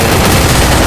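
Gunfire in the Free Fire video game, a loud, dense burst of rapid shots filling the whole moment at close range.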